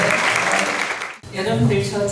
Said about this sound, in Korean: 우리 나오실 때 우리 환영의 박수 한번 하시겠습니다.